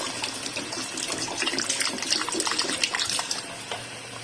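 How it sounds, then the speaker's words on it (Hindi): Water is poured steadily into a pan of cooking chicken, a close, continuous splashing gush lasting several seconds before easing off. "अब मैं इसमें थोड़ा सा पानी डाल दूंगी ताकि हमारा चिकन जो है वो गल जाए।"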